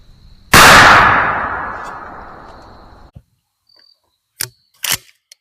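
A 12 gauge shotgun fires a single Remington 00 buckshot round outdoors, a sharp, very loud blast whose echo trails off over about two and a half seconds, followed by a few faint clicks and handling sounds.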